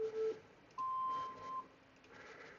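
A workout rest timer beeps: a short tone, then one longer steady electronic beep, fairly clear over a quiet room with faint background noise.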